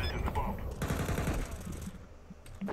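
Rapid bursts of video game gunfire rattle loudly through the clip, dense and overlapping, with a voice talking over them.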